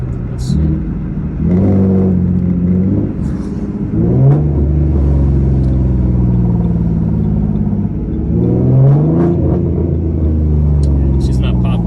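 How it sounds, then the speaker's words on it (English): A V6 Ford Mustang with a loud aftermarket exhaust downshifts on wet streets, its engine note rising in a series of sharp rev blips between gears, a deep rumble throughout. "I'm gonna start downshifting right now"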